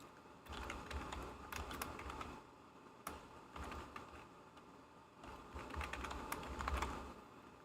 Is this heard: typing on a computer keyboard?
yes